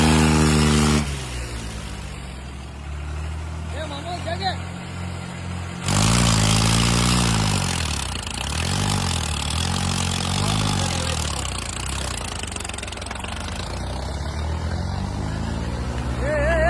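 Tractors at a village tractor race in Billur, with loud engines idling and revving close by, pitch rising and falling as they pull, continuous throughout with a surge partway through.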